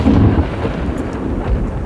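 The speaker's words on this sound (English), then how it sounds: "got a bit of a storm moving in on us here" Thunder from an approaching storm over a remote back lake during a fishing and camping trip: a loud, continuous low rumble fills the whole moment with no voices.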